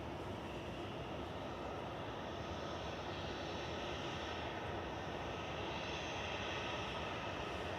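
An EasyJet airliner arrives at Manchester Airport, producing a continuous loud engine rumble and rushing roar that stays even from start to finish, with no speech.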